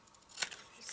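Scissors make a single quick snip while trimming paper for a craft project, a short crisp cut in a quiet room.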